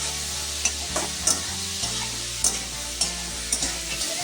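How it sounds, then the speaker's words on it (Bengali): Puti fish and eggplant curry sautéing in a pan with turmeric and salt: a steady close sizzle broken by regular scraping stirs, with no voices. "পরিমাণ মতো হলুদ দিয়ে দিয়েছি আর লবণ দিয়ে দিয়েছি দিয়ে আবার একটু সুন্দর করে কষিয়ে নেবো"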